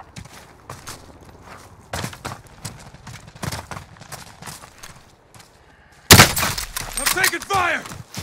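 Gunfire in Call of Duty: Modern Warfare, sharp shots spaced irregularly across the clip, then a louder burst of rapid fire near the end, with game sounds and voices mixed in.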